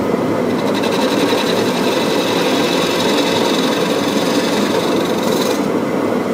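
A tool cuts straight in on a wood lathe to form a tenon, producing a loud, continuous rough rasping and whirring that stays steady throughout with no speech.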